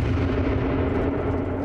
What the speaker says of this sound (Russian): Это взрыв реальной ракеты зенитного комплекса «Бук» у реального пассажирского самолета.